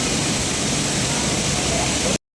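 Thoseghar waterfall pouring over rock, a loud, steady broadband roar of falling water filling the whole stretch without a break, then cutting off abruptly at the end.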